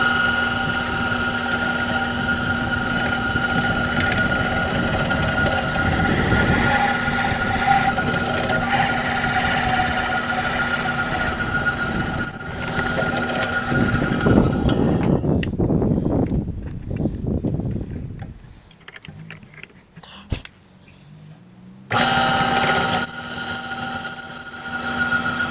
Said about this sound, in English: line up on my drill press, and we'll go ahead and get this taken care